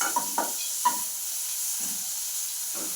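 Onion and cauliflower for gobi Manchurian fry in a pan with a soft, steady sizzle, broken by a few light scrapes and stirring knocks from a spatula.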